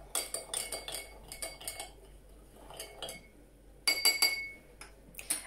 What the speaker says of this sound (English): Give it a stir to try and dissolve as much as possible.